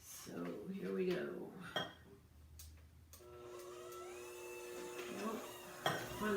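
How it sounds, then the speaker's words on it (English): An electric mixer creams butter and sugar for Christmas cookie dough, its steady whirring motor hum starting partway through and running on at close range after a stretch of talk. "the instructions say to mix with an electric mixer until light and fluffy"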